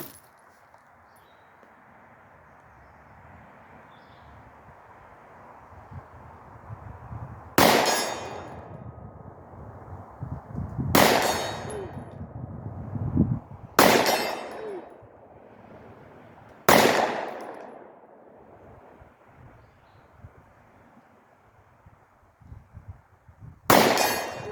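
Five sharp Glock 43 pistol shots ring out several seconds apart at an outdoor range, each followed by the clang of steel targets at 50 to 75 yards, over a quiet background hum.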